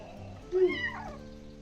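A single short cat meow rises and falls near the middle, fairly close, over a quiet room background.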